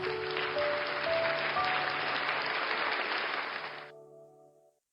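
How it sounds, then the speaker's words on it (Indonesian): A church congregation applauding steadily for several seconds, the clapping cutting off while a faint sustained tone lingers briefly. "Dengan tepuk tangan yang paling meriah buat Tuhan kita."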